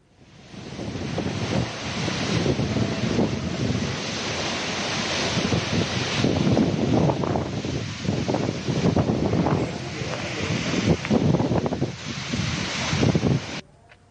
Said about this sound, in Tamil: பல இடங்களில் பலத்த சூறாவளி காற்றும் வீசி வருகிறது